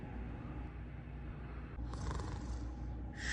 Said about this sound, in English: You're snoring in my face.